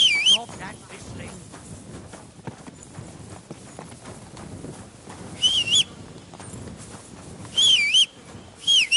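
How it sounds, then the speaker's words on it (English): A rider whistles a short warbling tune in bursts over steady horse hoof clip-clop in Kingdom Come Deliverance 2, the whistles recurring several times amid outdoor ambience. "Stop that whistling."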